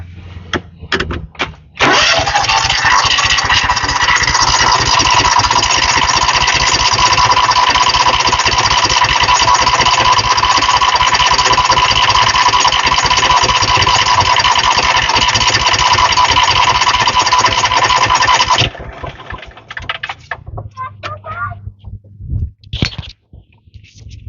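Engine idling after a fuel pump test, a loud, steady, chugging mechanical drone that runs for around sixteen seconds, then cuts out into quieter scattered clanks and rattles.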